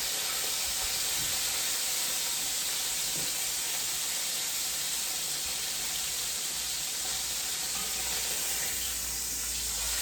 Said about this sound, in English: you kind of got to hold it with your tongs and just hold it up to sear it on those 4 thick edges